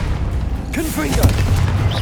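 A Confringo blasting spell bursts in Hogwarts Legacy: one sharp, booming pop that blooms into a crackling explosion, with short warbling magical trills around it over a low rumble.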